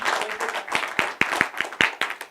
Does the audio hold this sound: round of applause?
yes